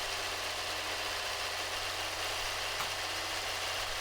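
A tractor engine in the video game Farming Simulator 22 runs at a steady idle, a constant low rumbling drone with a hissy, noisy top end and no talking.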